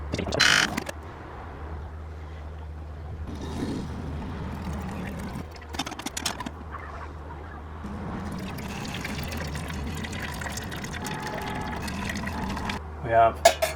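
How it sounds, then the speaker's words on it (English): A Ninja Luxe Cafe machine runs its first water pull-through, with mechanical humming and water pouring into a container underneath that go on for several seconds between short breaks, and a person talks over part of it. "and then we're going to press start brew"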